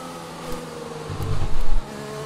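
An F1 car engine in the F1 2020 racing game at Abu Dhabi, a steady buzzing drone that swells into a brief, louder low rumble before settling back, with no talk.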